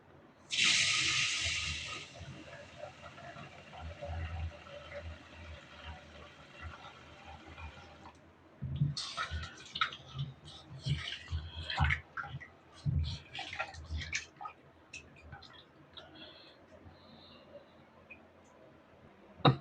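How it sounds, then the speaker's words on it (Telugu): Ration rice being washed by hand in water: a burst of running, splashing water at the start, then a quieter stretch followed by repeated close sloshing and swishing as the grains are rubbed and rinsed. "దుమ్ము ధూళి పోయేంత వరకు అయితే నీట్గా కడుక్కుంటానండి"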